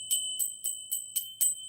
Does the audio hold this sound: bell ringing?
yes